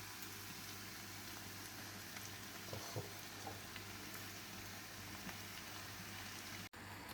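Mushrooms and onion frying in a pan on a home stove, a soft, steady low sizzle with faint occasional stirring sounds, heard alone without speech.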